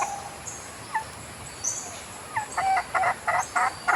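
Gamecock roosters and a hen feeding outdoors, with soft clucks and short gobbling, chirping calls rising toward the end over a faint background hiss.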